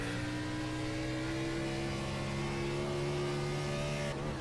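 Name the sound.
race car cornering at Portland International Raceway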